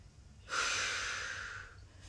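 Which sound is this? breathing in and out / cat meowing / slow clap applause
breathing in and out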